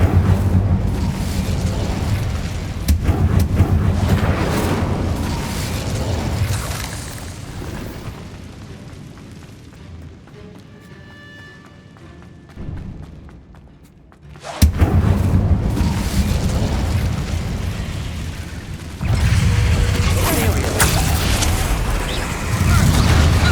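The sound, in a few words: spell blasts in video game Hogwarts Legacy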